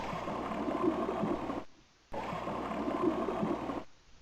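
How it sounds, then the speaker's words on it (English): A steady underwater-style rumbling whoosh of a submarine's forward thruster in the video game Discoveries of the Deep, running continuously, cutting out briefly, then resuming before fading. "So that noise is me now using my forward thrust"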